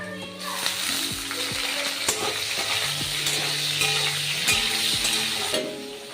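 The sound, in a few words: potatoes and shrimp frying in a pan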